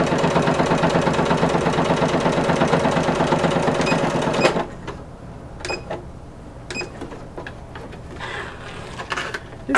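A sewing machine runs steadily for about four and a half seconds while stitching corset bone casings, a fast rhythmic whir of needle strokes, then halts and gives way to scattered clicks and fabric handling.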